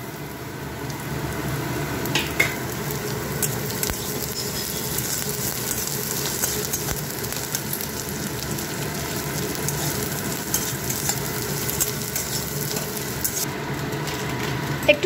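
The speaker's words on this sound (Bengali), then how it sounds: "ভালো করে ফ্রাই করবে।" Chopped green chilli, garlic and ginger frying in a pan make a continuous, close crackling sizzle for the whole stretch, with faint scraping and no talking.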